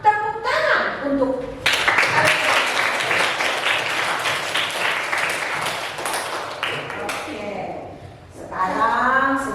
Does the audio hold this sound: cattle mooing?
no